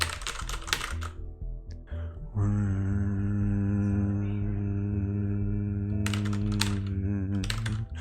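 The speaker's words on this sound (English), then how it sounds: "no, that's the streamer typing." Someone types on a computer keyboard during a game-development livestream, with bursts of clicking keystrokes at the start and the end and a sustained tonal hum filling the middle.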